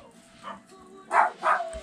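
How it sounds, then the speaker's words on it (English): Small chihuahuas bark indoors in a kitchen, two short sharp yaps close together after a faint earlier yip, heard alone without talk. "that's my chihuahuas probably thinking that there's a stranger here"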